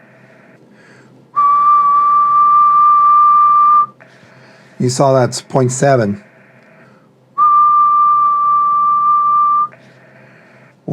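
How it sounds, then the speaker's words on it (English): Someone whistles a long steady tone into a QRP-Labs QMX radio, twice, each note held for a few seconds, with a short burst of talk between them and a faint hum underneath. "Let's whistle."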